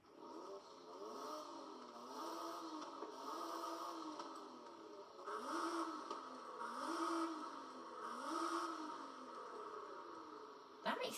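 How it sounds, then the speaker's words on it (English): In Forza Horizon 5, a Nissan Z's exhaust revs up and back down about six times in a repeating rhythm, with a moderately quiet, buzzy game engine tone. "here's the different tones of the exhaust"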